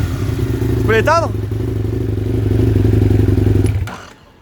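A prepared 105-horsepower supermoto idles with a loud, throbbing exhaust whose unwelded, loose section adds a metallic clatter, with a brief voice over it before the engine cuts off.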